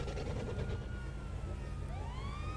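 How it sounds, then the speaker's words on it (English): Police sirens wail in GTA 5, a rising and falling electronic tone swelling over a dense, steady bed of traffic and engine rumble, with no talking. "I can hear sirens."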